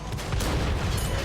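Heavy tank cannon fire in the World of Tanks console game during a T77 battle, a dense continuous rumble of booming blasts that stays loud and close for the whole moment, with no voices.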